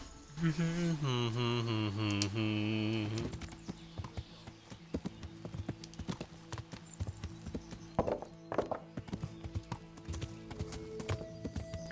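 In Kingdom Come: Deliverance, a horse gives a loud, close whinny, then its hooves clip-clop in a steady, irregular patter, with a few louder hoof strikes along the way.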